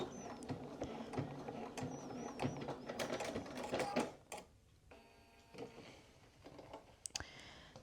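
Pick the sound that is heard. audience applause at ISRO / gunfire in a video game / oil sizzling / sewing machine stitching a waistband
sewing machine stitching a waistband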